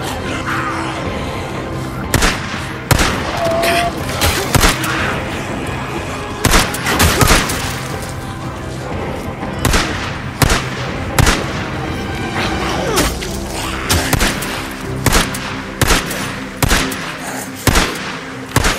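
Rapid gunfire rattles in repeated bursts at close range in the zombie survival game Days Gone, sharp cracks and booms punctuating a dense, noisy background throughout.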